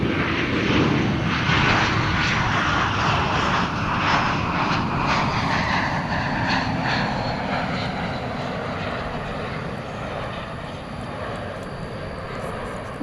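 Aircraft engine roar from a plane coming in to land at DFW Airport at night, a loud steady drone that slowly eases off, heard from a distance.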